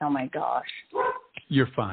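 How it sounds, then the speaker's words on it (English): Pet dogs barking and yipping in short bursts close by, mixed in with a voice talking over them. "I am so sorry about my dogs."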